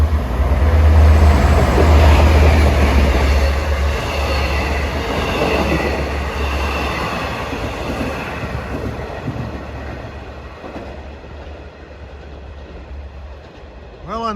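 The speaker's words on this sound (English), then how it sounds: "We got a long distance train, 2716, Jamaica to Montauk." A Long Island Rail Road diesel long-distance passenger train bound from Jamaica to Montauk roars past on a damp day on the triple-track line near Carle Place and Mineola, loud and close at first, then slowly fading into the distance.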